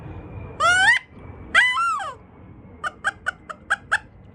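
Two drawn-out rising squeals blown on a handmade cypress wood duck call, followed by a quick string of six short, sharp whistled peeps, close and clear over light background noise.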